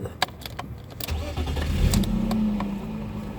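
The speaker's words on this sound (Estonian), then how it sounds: "Kuulame siis käivitus ka." A BMW engine starts with clicks and cranking, then fires and settles into a steady mid-pitched idle. It is close and fairly loud with no talking.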